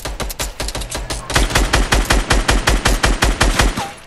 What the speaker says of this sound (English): I'm gonna get this with the revolver.